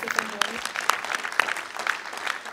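Scattered audience applause at a scientific conference awards session, fairly sparse and distinct claps at moderate level, with a voice briefly audible underneath.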